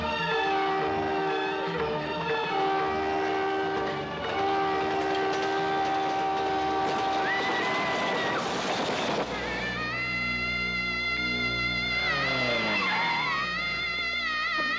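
A train passes in a Telugu movie scene, with a loud rumble and rattle building to a dense burst around the middle. A long tonal horn-like blast follows, mixed with music over a continuous track.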